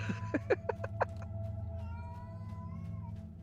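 A cat in the online game DDO (Dungeons & Dragons Online) gives a quick run of about five or six short meows close up, followed by a steady low tonal drone and faint game ambience.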